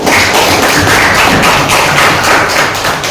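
A primary school class bursts into loud, dense applause as many children clap together. The clapping runs steadily and close for about three seconds.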